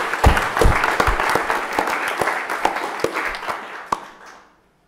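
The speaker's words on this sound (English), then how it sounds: "please join me in a round of applause to our panelists" Audience applause for the panelists at a NATO policy panel session. A dense, moderately close round of clapping goes on for several seconds, thins out into scattered claps and ends in silence.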